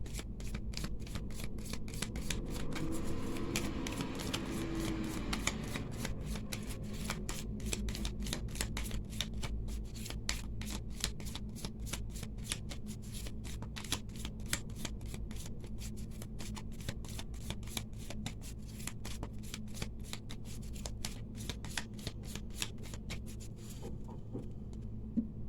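A tarot deck set with red jasper is shuffled continuously for about 24 seconds, its dense rapid riffling patter close and steady, with no voices over it.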